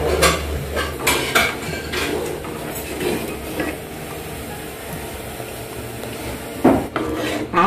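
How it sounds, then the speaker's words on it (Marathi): Sugar syrup for wheat laddu is stirred in a metal pot, a close run of scraping and rubbing strokes with utensil clinks against the pan, louder at the start and again near the end. "त्याला मी 2 मिनिटं असंच मिक्स करत राहते."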